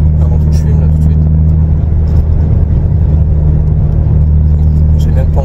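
A Renault Clio 2 RS with its 172 hp engine driving, heard from inside as a loud, steady low engine drone and road rumble that holds constant throughout, with a few faint higher clicks.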